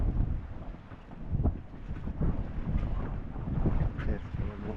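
Strong wind buffets the microphone outdoors near water and a boat, a continuous loud rushing roar with gusty swells and no clear talk.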